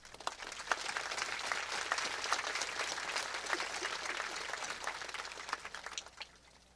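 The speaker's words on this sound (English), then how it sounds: "Let's give them a round of applause" Crowd at the 2025 West Perry High School graduation gives a round of applause for the valedictorian's parents, a steady, moderately distant wash of many clapping hands for several seconds before tapering off.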